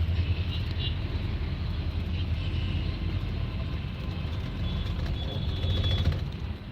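Continuous low rumble of late-morning city road traffic in Hyderabad with engines droning and occasional higher whines, steady throughout, close by and fairly loud.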